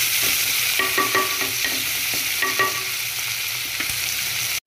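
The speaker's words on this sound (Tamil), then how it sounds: "ஸோ இப்போ வெங்காயம் நல்லா வதங்கிட்டோம்." Onions sautéing in a pan for chicken biryani give a steady close sizzle, broken by several distinct scraping and clinking stirs of a spatula against the metal, with no talking.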